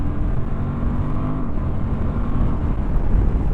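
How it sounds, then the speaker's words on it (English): A 2023 Suzuki V-Strom 1050DE accelerates downhill in third gear, its engine drone rising steadily under heavy rushing wind noise, loud and close, with no talking. "Third gear roll on down the hill."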